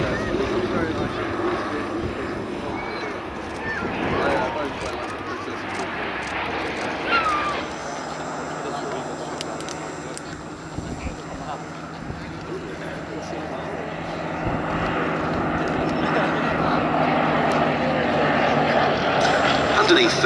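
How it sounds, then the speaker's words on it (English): A Bristol Blenheim bomber comes in to land at an airshow at Duxford, its piston engines giving a steady droning rumble at a distance, mixed with wind and crowd noise, while people talk nearby. "the aircraft restoration company's Blenheim comes into land"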